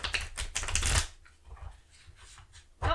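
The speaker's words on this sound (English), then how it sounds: "I will admit these cards are a little tricky to shuffle." Tarot cards are shuffled up close for about a second, a dense burst of crisp riffling flicks, followed by quieter scattered card taps and a final snap.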